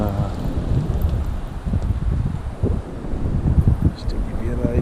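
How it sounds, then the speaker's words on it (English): Gusting wind during a March snowstorm with the temperature dropping, a rough, rumbling buffeting against the microphone that swells and eases in uneven waves, loud and close, with faint sounds of the storm behind it. "the wind's picking up."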